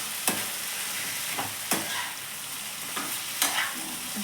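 A spoon scrapes and stirs potato and fenugreek curry in a pan with a soft steady sizzle, sharp clanks of the spoon against the pan landing roughly every second, with no talk.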